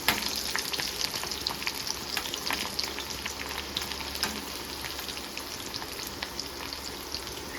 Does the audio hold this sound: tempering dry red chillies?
yes